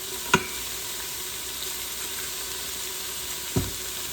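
Fresh garlic sizzles in a slow cooker's searing pan while beef stew is being made: a steady, even hiss throughout, broken by two sharp utensil clicks near the start and end.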